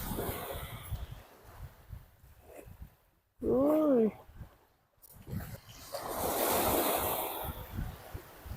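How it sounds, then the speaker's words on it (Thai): Surf rolls and washes onto a beach in a steady low roar, with a short high animal-like cry partway through and a bigger wave surging near the end. "หาไม่ยากหรอกเดินตามเสียงไปนี่อันนี้ก็เป็นทะเล"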